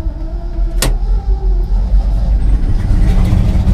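Petrol engine of a TR70 tiller running steadily after starting, a loud close low rumble with a sharp click near the start.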